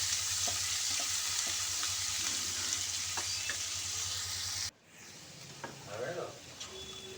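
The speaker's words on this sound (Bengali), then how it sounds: "এরকম একটু লাল লাল করে ভেজে নেব।" A large chopped onion fries in a pan for a spicy bata fish curry, giving a steady close crackling sizzle. After a sudden cut it turns to a softer sizzle with a few light clinks.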